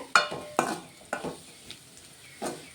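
Carrots and fenugreek with chili powder fry in a pan, with a low sizzle under a series of sharp scraping and clinking stirs, five or so strokes spaced unevenly, close and clear.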